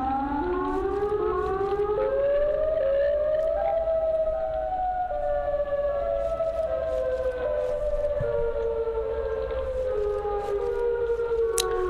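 Siren Head's siren from an itch.io horror video game wails continuously, with several layered tones gliding slowly up and down, loud and steady across the whole stretch without talk.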